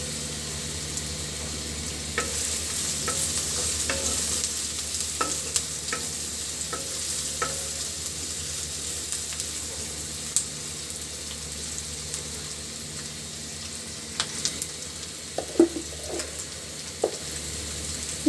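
Green chillies fry and get stirred in a pan for a fish curry with pui shak and potato, a steady sizzle running throughout, with scattered spoon scrapes and clinks and a few sharper knocks near the end.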